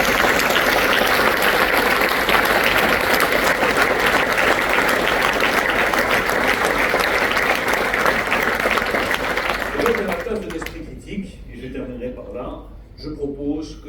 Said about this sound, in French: Je voudrais qu'on applaudisse tous les acteurs économiques qui se sont engagés.